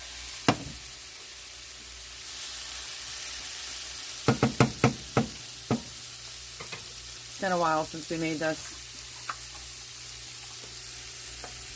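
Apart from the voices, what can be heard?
portobello mushrooms sizzling while browning in a pan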